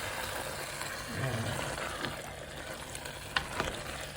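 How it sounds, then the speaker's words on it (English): Goat meat being stirred into a biryani base in a pressure cooker pot, a continuous scraping and gentle sizzle running throughout at moderate level, with a few sharper clinks of the spoon near the end. "So now we are mixing the biryani base with the meat."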